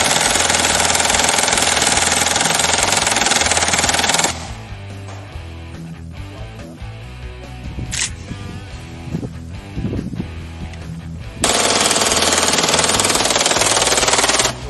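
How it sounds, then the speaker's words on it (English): Sustained bursts of automatic fire from a Glock pistol converted to full-auto with a 100-round drum magazine, a dense loud rattle for several seconds, a quieter stretch with scattered sounds, then another long roaring burst. "100 rounds, adapted to fit a Glock, and one of our test fires on a Glock"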